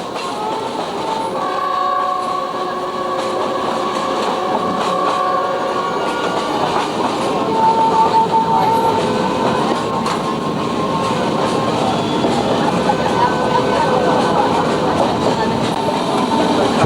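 A huge steam locomotive hauls a freight train through the watery Yangtze Delta near Hangzhou, China. The rumble and clatter of wagons stays loud and steady throughout, with faint tonal whistle-like notes rising above it now and then.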